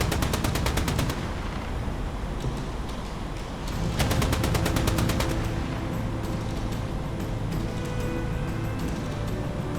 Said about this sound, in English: Looks like autocannon fire.